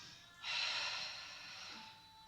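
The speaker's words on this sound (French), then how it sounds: "On est obligé de bien respirer." A single deep, forceful breath during an abdominal and glute workout, a close airy rush that swells quickly and slowly fades over about two seconds.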